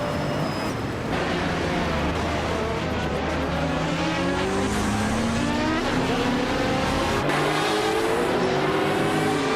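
Race cars, among them a 2021 Chevrolet Camaro in the Trans Am class, roar around the Autopolis circuit in Oita, engines loud and steady with rising, shifting tones as cars pass.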